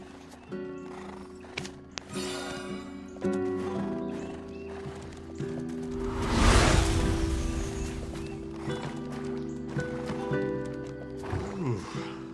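Horses and donkeys at a stable in the Black Desert video game, with a loud whinny near the middle among repeated hoof clip-clops and snorts, set over steady game music.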